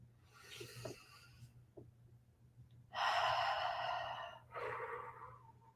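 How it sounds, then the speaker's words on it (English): A person draws a deep breath, a long airy inhale swelling loudly, then a shorter exhale trailing off, close to the mic, with faint softer breaths beforehand. "take a breath"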